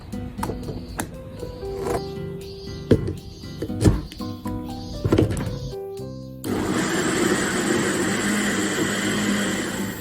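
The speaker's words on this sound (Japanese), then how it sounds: "はい、ではミキサーにかけます。" A few knocks and clunks come first as gazpacho ingredients, tomatoes and soaked croissant, go into a kitchen blender. Then the motor starts with a loud, steady whirring grind that runs alone to the end.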